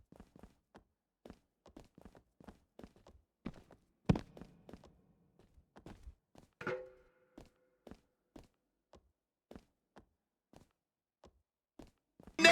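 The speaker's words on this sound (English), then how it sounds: "Do you hear that thud? Gets it with the fire extinguisher." Fire extinguisher striking a wrestler in WWE 2K20: a sharp heavy thud stands out among a steady series of lighter footstep-like taps and thumps, with a second impact and a brief metallic ring shortly after.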